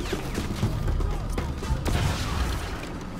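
Gunfire in the shooter Crysis: Warhead crackles through a dense, continuous wash of game noise, with a couple of sharp shot transients standing out and speech-like sound mixed in.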